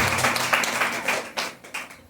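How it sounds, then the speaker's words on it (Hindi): Audience applause at a Hindi-language Christian worship service, a dense crackle of many hands clapping loudly for about two seconds before tapering off. "प्रभु के लिए जोरदार ताली बजाइए"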